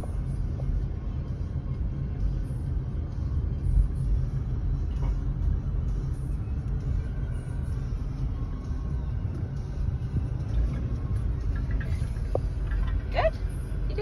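A car's engine and road noise make a steady, low rumble from inside the car as it drives slowly through a residential street with speed bumps. The rumble is continuous throughout.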